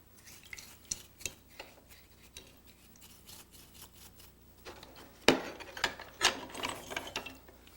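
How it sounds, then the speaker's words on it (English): A left-hand threaded part on a hand plane is turned off its stud with sharp ratcheting, metallic clicks. Quiet, sparse ticks come first, then a louder burst of rapid clicking near the end, close up and without speech. "It's on a left-hand thread, so I turn it clockwise to back it off the stud."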